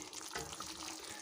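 Water poured into a pan of cooking potato curry, a steady close splashing gush filling the whole short moment.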